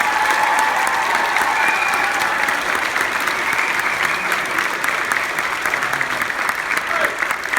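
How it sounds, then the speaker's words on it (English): A theater audience gives a steady, full round of applause for the pit orchestra after a school musical performance of Seussical, dense clapping sustained throughout without a pause. "one more round of applause for our amazing orchestra"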